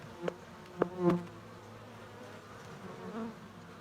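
A honeybee colony sits on frames in a hive box, giving off a low, close buzzing hum. A few short louder buzzes rise above it near the start, and no voices are heard.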